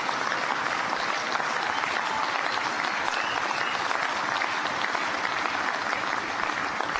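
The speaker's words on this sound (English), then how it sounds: "Would you mind giving all the Hoosiers who are here a big, big round of applause" Sustained applause from a large audience at the christening ceremony for the USS Indiana, steady clapping filling the space without pause from start to finish.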